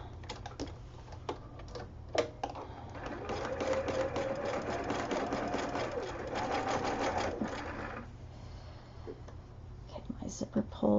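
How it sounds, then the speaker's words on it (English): A sewing machine stitches the lining of a zipper pouch in one steady, close, buzzing run of several seconds, framed by lighter tapping and handling noises before and after. "So I'm just going to sew this down."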